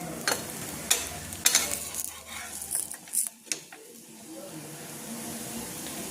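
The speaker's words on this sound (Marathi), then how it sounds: "आता बाकीच्या पण टिक्क्या याच पद्धतीने आपण भाजून घेऊ." Potato tikkis shallow-frying on a pan give off a soft sizzle, broken by a few sharp clinks and scrapes of a utensil against the pan, before the sound settles into a quiet, low fry.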